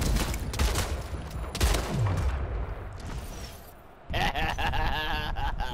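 Rapid shotgun blasts and other gunfire fill a round of the video game Splitgate, loud and dense with repeated bursts, a sharp change in the mix after a few seconds, and no speech.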